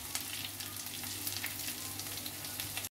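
Ginger, garlic and green chilies sizzle and crackle in hot oil in a pan, a steady close frying hiss with brisk popping and occasional stirring throughout.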